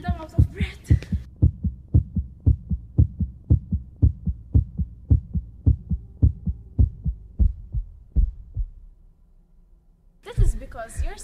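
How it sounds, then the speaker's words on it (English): A rapid, regular heartbeat thumps loudly and close after exercise during a school demonstration of its effects on the body, with brief talk heard at the start and end. "I can feel my heart pounding."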